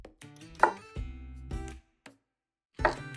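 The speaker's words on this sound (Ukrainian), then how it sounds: "Також кабачок можна нарізати ось на такі кружечки." A knife cuts a young zucchini into rounds on a board. Several crisp cutting strokes come up close at an uneven pace, with short pauses between them and no talking.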